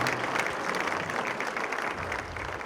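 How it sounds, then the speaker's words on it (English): Conference audience applauding after a hymn performance, a full, continuous burst of clapping from a large crowd, loud and sustained across the whole stretch without speech. "Let's give Ken a round of applause."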